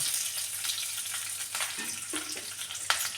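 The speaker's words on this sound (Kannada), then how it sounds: "ಒಂದೆರಡು ಎರಡು ಒಣಮೆಣಸಿನ ಹಾಕ್ಬಿಟ್ಟು ನಾವೆಲ್ಲ ಇದನ್ನು ಫ್ರೈ ಮಾಡ್ತಾರೆ" Steady crackling sizzle of lentils and dried chillies frying in hot oil, continuous and close, with faint stirring clinks.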